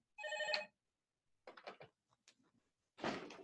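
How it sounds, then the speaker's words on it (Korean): A telephone rings during a lecture in a small office room: one short, bright, tonal burst of bell ringing near the start, followed by a few brief, quieter knocks and rustles. "sorry 이게 전화가 와서 오네"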